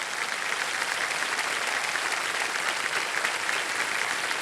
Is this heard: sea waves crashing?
no